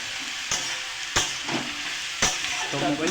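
Food sautéing in hot oil in a home kitchen in Bangladesh, a steady close sizzle broken by a few sharp scraping stirs of a utensil against the pan, with no talking.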